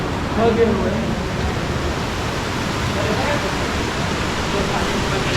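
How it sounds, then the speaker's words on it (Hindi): The Botalda waterfall in Janjgir-Champa pours as a steady, loud, broadband roar that fills the whole stretch without a break. "वाटरफॉल नीचे में है, तो पहले आपको नीचे का वाटरफॉल को दिखा देता हूँ मैं आपको"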